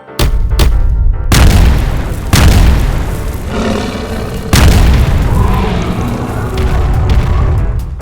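A tank cannon fires in an animated cartoon with heavy, booming blasts, a few quick sharp shots up front followed by several big roaring explosions that echo and rumble on, loud and close.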